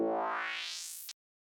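Metallic FM synth lead patch from the Serum synthesizer with about 4 semitones of modulation, a single bright note whose tone sweeps steadily upward for roughly a second before cutting off abruptly, fairly quiet and alone.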